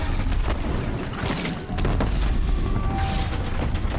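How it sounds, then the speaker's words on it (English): Mine launcher explosions in the video game Horizon Zero Dawn, a rapid burst of heavy booms and crackling blasts, loud and close, with a brief lull before another round of detonations and debris. "Oh, it's a mine launcher."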